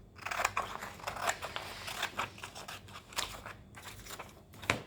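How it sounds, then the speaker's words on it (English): Scissors snip through paper for a pop-up tower mechanism, a busy run of close, crisp cuts and crunchy slices with brief pauses, ending in a sharper final snip. "let's cut it again"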